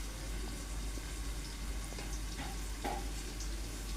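A small handful of peanuts fries in a pan for a quick masale rice, producing a continuous close sizzle with faint scattered clicks of stirring and no talk.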